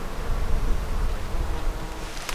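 A soft, steady buzz of bees drones in the background of a wild garden conservation area, mixed with faint outdoor rustling.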